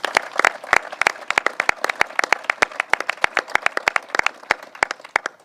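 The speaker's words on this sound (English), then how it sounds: "and I'd like to give them a round of applause." Audience applause at a government announcement about brown tide and water quality research, heard as sparse, distinct hand claps from a modest crowd, fairly close and steady throughout with no talk over it.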